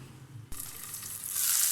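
Onions fry in a pan, a soft sizzle that jumps with a sudden hiss after a brief stir and then swells louder and brighter, close and without talk.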